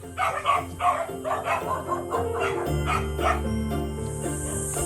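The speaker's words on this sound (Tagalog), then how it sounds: "may aso" A dog barks in repeated bursts at an outdoor house visit, fairly close and loud over a low steady engine hum, with a few short yips mixed in.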